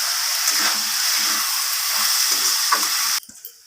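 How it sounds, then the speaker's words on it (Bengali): Lentils for khichuri fry in hot oil with tempering spices, giving a steady loud sizzle with faint stirring scrapes, then cutting off abruptly near the end. "এরপর আমি ডালটাকে ভালোভাবে তেলের সাথে আর সব কিছু ফোড়নের সাথে ভেজে নেবো"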